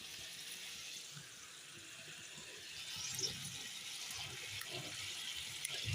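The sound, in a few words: curry starting to boil in a pan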